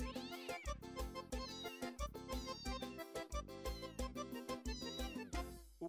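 Upbeat music plays throughout, with singing voices and bright melodic lines that resemble cat meows woven into the tune.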